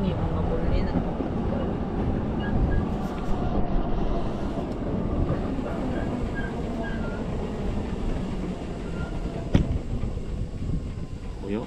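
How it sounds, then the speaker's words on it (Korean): A rack railway train arrives at Rigi Kulm summit station on a mountaintop, its rumbling rail noise steady and fairly near throughout, with wind and outdoor crowd murmur underneath and a brief clunk near the end. "기차가 자주 와. 기차 올 때마다 저쪽이 정상이 뭔가 몰리는 것 같아."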